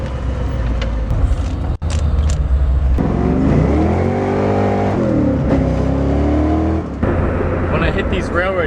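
Ford Mustang Foxbody with a 5.0 V8 and a failing power steering pump, its engine revving up and holding high, loud and close, with a rising and falling pitch.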